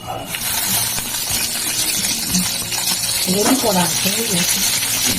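Dried red chilli dropped into hot oil in a pan while cooking a Bengali vegetable curry with fried lentil dumplings, giving a steady close sizzle throughout, with someone speaking over it.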